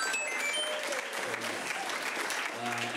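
An audience at a live comedy show claps steadily for the tech crew, a dense even patter of applause throughout, with a host's voice and faint musical tones mixed in.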